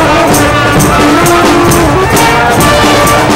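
A brass band plays in an Oktoberfest opening parade, a loud, dense, steady wash of horns and drums with a regular beat, close by and continuous.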